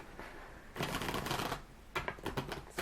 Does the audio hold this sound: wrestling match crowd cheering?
no